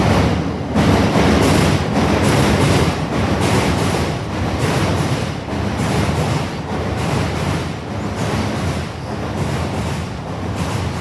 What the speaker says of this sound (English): Loud. Train up top.